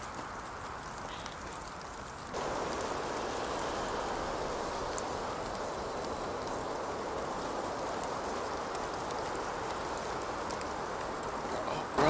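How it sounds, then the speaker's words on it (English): Heavy rain pours steadily in a horror video game, a loud broadband hiss that surges in around two seconds and then holds for the rest of the clip, with players talking faintly beneath it. "That rain is so loud."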